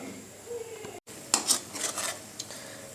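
Butter being stirred in a pan over a low flame, quiet scraping and metallic clinks of a spoon against the pan over a faint background sizzle, with a brief cut near the start.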